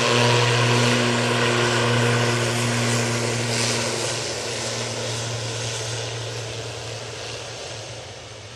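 A Malta Air jet flying for Ryanair at Manchester Airport, its engines giving a loud steady drone and whine that slowly fades as the aircraft moves along the taxiway.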